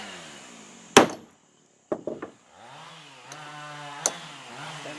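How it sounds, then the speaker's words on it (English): A sledgehammer comes down on a battery cable lug to crimp it, giving one sharp loud metallic strike followed by a few smaller knocks and clatter, then a low ringing hum and a final light tap. "Sledgehammer and a big whack."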